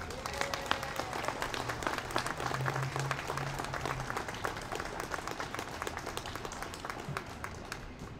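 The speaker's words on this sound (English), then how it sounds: "Give him a round of applause, please." Steady applause from a crowd at a Second Amendment march, dense and continuous clapping throughout, fairly even in loudness.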